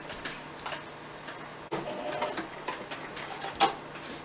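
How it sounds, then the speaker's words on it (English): A sewing machine stitches fabric samples together into a plant pot bag, with faint, quiet mechanical whirring and light ticking, plus a few soft clicks and handling sounds. "So I'll start stitching."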